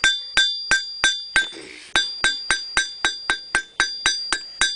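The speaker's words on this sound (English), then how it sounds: "just pretty light blows just to shape it, not trying to move a lot of steel" A blacksmith lands light hammer blows on hot steel at the anvil while shaping a J-hook, about a dozen bright ringing strikes in an even, unhurried rhythm with one short pause, close and loud.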